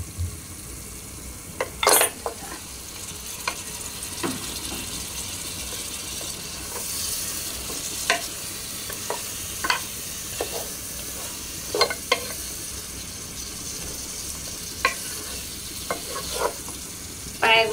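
Mutton trotters for a hotel-style paya soup frying in a pan, a steady sizzle broken by sharp clinks and scrapes of a utensil stirring against the metal, with no voices.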